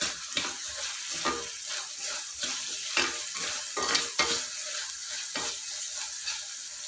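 Onions and green chilies cook with salt in a pan for mutton liver fry, a soft continuous sizzle broken by repeated scraping stirs of a spoon at a fairly regular pace, quiet and close with no talking.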